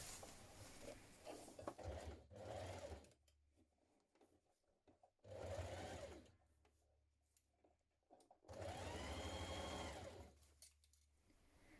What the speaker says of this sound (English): We're going to stitch around it with a zigzag stitch.